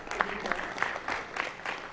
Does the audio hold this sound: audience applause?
yes